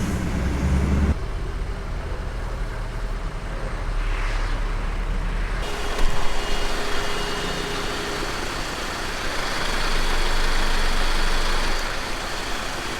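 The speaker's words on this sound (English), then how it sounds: "Traffic is at a standstill" Cars and trucks idle in stopped traffic with a steady low engine rumble, a few swells and a brief louder thump, the drone filling the background throughout.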